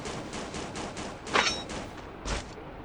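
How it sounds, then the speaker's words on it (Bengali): Gunfire from behind the player in a shooting video game, a rapid series of distant bursts with a few louder cracks, steady and moderately loud with no talk over it. "পিছন থেকে কে যেন ফায়ার করতেছে"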